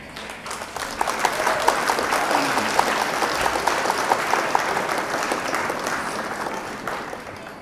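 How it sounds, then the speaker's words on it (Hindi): An audience claps steadily at a Rajasthani cultural stage event, a dense, even wash of applause that holds for several seconds without pause. "तालियां बजती रहनी चाहिए"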